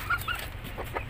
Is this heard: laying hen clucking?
yes